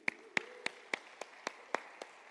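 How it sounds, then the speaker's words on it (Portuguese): A few sparse, sharp claps ring out one after another during a church service, about eight in total, light and scattered rather than a full round of applause. "aplauda a vida dele"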